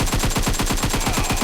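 Rapid automatic gunfire from PUBG Mobile, a loud, dense burst of evenly spaced shots firing continuously with no pauses.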